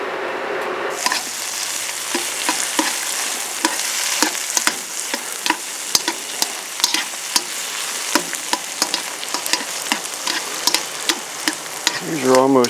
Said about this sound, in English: Right over here I have got the egg noodles. Yeah, egg noodles cooking.